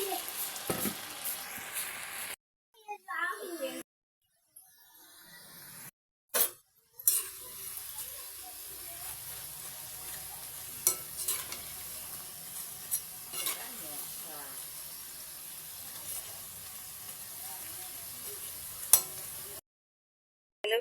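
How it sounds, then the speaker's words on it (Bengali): Nimki, fried flour snacks, sizzling in hot oil with a continuous frying hiss, broken by short silent gaps and punctuated by occasional metal scrapes and clinks of a utensil stirring in the pan. "এখন আমি নিমকিগুলো ভাজা করে নেব"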